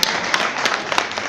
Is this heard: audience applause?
yes